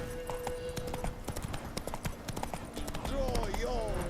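Roach the horse's hooves clip-clop at a steady gallop in The Witcher 3, with a whinny rising near the end, while a voice talks over the hoofbeats.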